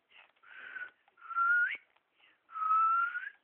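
A person whistles to call a dog indoors, three airy, breathy whistles, each about a half-second to a second long, some with a rising slide, close and clear against silence.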